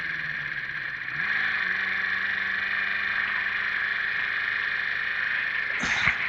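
A Honda CB550 motorcycle engine runs at a steady idle, a continuous mid-pitched drone that rises slightly in revs partway through, heard close up and alone, ending with a brief clunk.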